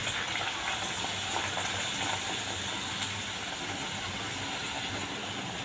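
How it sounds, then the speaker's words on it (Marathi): Puris for aloo masala puri frying in hot oil, a steady dense sizzling hiss that continues evenly throughout without pauses. "तेल छान गरम झालेलं आहे। आता मी एक एक पुरी सोडते त्यामध्ये"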